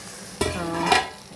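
Tomatoes frying in a pan for semiya upma, a short burst of close sizzling set off by one quick scraping stir, alone and without speech.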